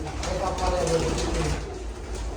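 Pigeons coo in a loft, a steady layered burble of soft low calls from several birds with faint voices in the background.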